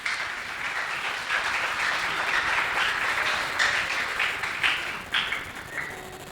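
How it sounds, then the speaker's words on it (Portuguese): A church congregation claps together in a lively burst of applause, bright and fairly close, swelling and easing over several seconds. "Aplauda Jesus por essa palavra."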